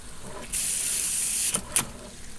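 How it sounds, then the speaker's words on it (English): A Mamod model steam engine being started up releases a steady hiss of steam, broken near the end by two short, sharper bursts, close and fairly quiet with no talking. "You can see the steam starting to come out."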